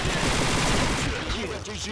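CZ Scorpion Evo 3 submachine gun firing in Combat Arms, a rapid continuous burst of loud automatic shots that thins out toward the end, with someone talking over it.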